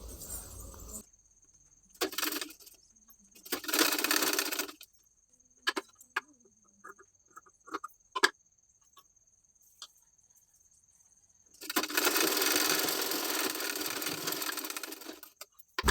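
Sewing machine stitching a hook strip onto a blouse, running in several short whirring bursts with pauses between, then a longer steady run near the end, close by and without talk.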